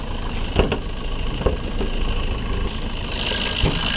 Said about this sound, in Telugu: ఇంజన్ కూడా స్టార్ట్ చేసి చూడండి ఎంత నీట్గా ఉంది